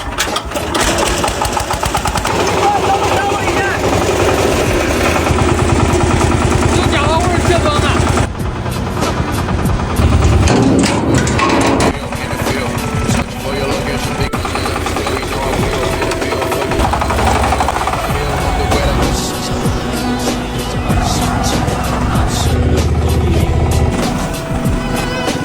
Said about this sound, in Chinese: 我开开油门。